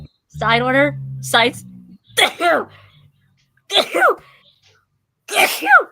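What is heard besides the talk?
sneeze from seasonal allergies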